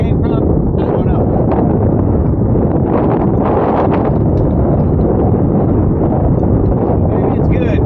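Strong gusts of wind buffet the microphone during a rainy storm on Lake Guntersville, a continuous loud roar and rumble filling the whole clip with surging peaks.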